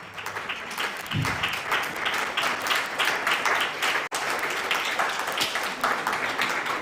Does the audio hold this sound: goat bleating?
no